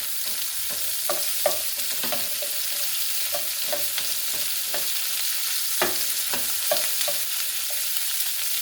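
Onions sizzling in a pan for a rustic fry of squash, zucchini and potatoes, a steady hiss with scattered clicks and light stirring taps, close by and without talk.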